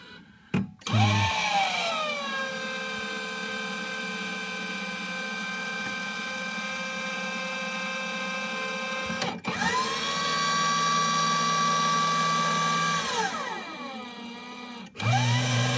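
A Rotimatic automatic roti maker runs through its cycle for one roti, giving a steady whirring motor hum with sharp clicks at the start, a pitch shift partway through and a clunk near the end, heard close with no talk.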